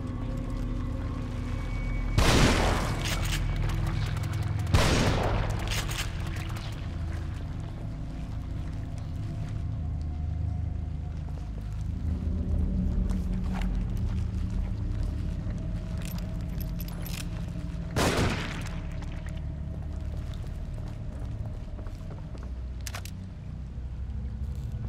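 Gunshots ring out in the survival horror game The Evil Within: three sharp, loud reports, two close together early and one much later, over a low, rumbling ambient backdrop.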